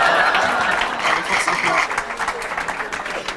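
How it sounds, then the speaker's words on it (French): A comedy club audience applauds as someone is called up on stage, a full burst of clapping that gradually thins into scattered individual claps, with a voice speaking briefly over it. "Applaudissements pour Shaolin"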